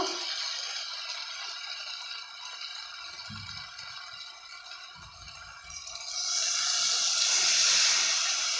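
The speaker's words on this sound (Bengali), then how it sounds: "এরপর জল দেব।" Water added to a hot pan of poppy-seed curry sets off a continuous hiss and steam, a few low knocks midway, the sizzling rising louder and brighter toward the end.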